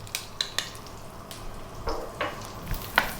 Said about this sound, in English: To that we're going to add our 1 cup of onion and our 1 tablespoon of garlic.